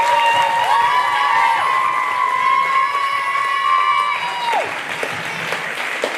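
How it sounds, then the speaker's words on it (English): An audience applauds and cheers loudly after a children's musical production of The Little Prince. Dense clapping runs throughout, with a sustained tonal note over it that fades near the end. "Give yourselves a big clap."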